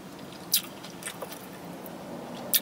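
Someone bites and chews a Taco Bell Cantina Chicken meal, with two sharp crunchy bites and soft, moist chewing between them, close to the mouth and without talk.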